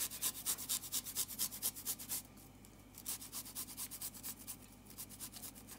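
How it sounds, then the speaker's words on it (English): A single garlic clove is rubbed over a grater into liquid, giving a quiet, close rhythmic rasping of quick strokes with a brief pause midway. "I will grate my one clove of garlic into the"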